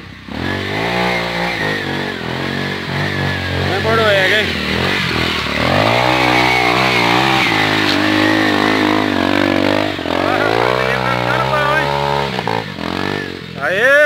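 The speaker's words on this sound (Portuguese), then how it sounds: "O Bordoega vai dar corda na moto." Trail motorcycle engine running loud and close through the whole stretch, its pitch repeatedly rising and falling as the throttle is revved, with a voice speaking briefly over it.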